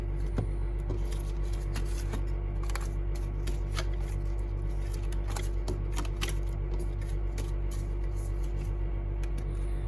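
A tarot deck is shuffled and cards are drawn, giving soft riffling and snapping clicks over a constant low hum, with no clear talk.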